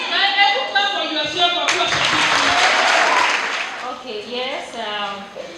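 An audience bursts into applause and cheering at a girls' school talent expo. The clapping swells for about two seconds in a crowded room, with talk and voices before and after it.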